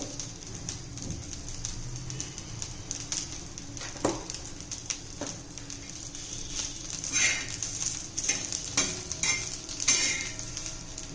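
Asafoetida dropped into hot oil while making a chutney crackles in a soft, uneven sizzle, broken by scattered clinks of a utensil stirring against the pan.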